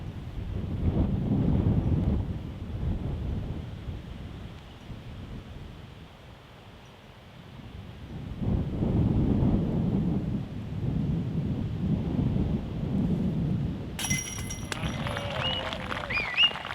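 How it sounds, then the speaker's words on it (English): Gusts of wind on an outdoor disc golf course roar in buffeting waves against the microphone, swelling and easing over several seconds, with a brief high electronic tone near the end. "Waited for the gust to die down just a little bit and took the opportunity."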